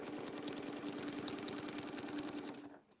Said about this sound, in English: here's where they're going to sew through